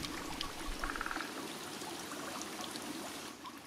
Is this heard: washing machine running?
no